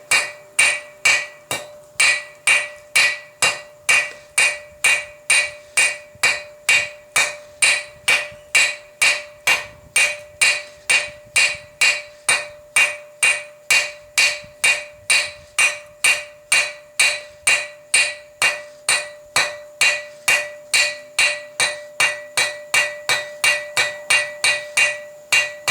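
Steady hammer blows ring out on an 8mm steel bar as its end is tapered for a medieval-style hairpin, dozens of evenly spaced metallic strikes in a fast, regular rhythm, loud and close, with no talk.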